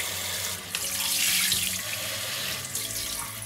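Water pours steadily from a tap-like stream while a staghorn fern (Platycerium) is watered indoors, a continuous close splashing rush that swells slightly midway, with no voices.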